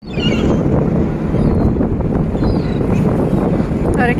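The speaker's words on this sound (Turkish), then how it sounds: "Çok rüzgar var." Strong wind buffets the microphone on the open deck of an Istanbul car ferry, a loud continuous rumbling gust with faint water and engine noise beneath and a voice briefly heard.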